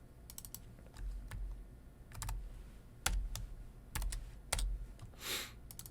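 Computer keyboard keys are tapped in short scattered clusters, quiet and close, with brief pauses between the clicks.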